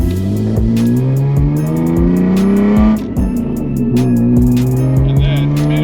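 A BMW E46 M3 fitted with a Valvetronic exhaust accelerates hard nearby, its engine note climbing steadily and loud throughout, with sharp clicks and crackles over the rising drone and a brief dip midway.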